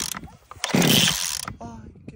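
A Garland ahoyadora food machine is switched on, with a sudden loud mechanical whoosh that swells for under a second and then fades, set among short clicks and knocks.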